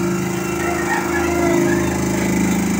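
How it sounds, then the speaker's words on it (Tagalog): A household clothes dryer running nearby, a steady loud droning hum with a constant low rumble and tumbling whir, unbroken throughout with no talking. "Ingay ng aming dryer"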